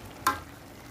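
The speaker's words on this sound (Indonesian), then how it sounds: "Diaduk-aduk dulu dan dicek rasa ya." A spatula scrapes once through a spicy mushroom and shrimp stir-fry in a pan, a brief clear stroke over a faint background, with no talking.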